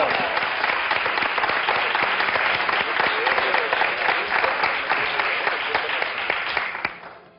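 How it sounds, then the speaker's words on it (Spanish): Sustained applause from an audience in Spain clapping for a man, loud and dense for about seven seconds before tapering off at the end. "¡Vamos a aplaudir, hombre, a Carlos!"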